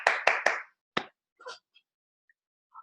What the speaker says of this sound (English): Everyone, give a round of applause for Mr. Roshan, okay?